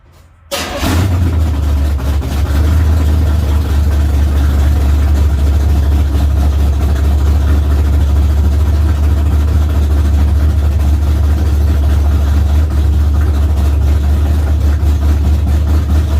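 A Camaro V8 running steadily at idle after starting, a loud, continuous low rumble with a steady throb throughout, heard alone without talk while a timing light is used on it.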